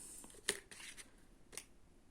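Scissors snip thread during needle lace (oya) work: two quick, light cuts about a second apart, close but faint against a quiet room.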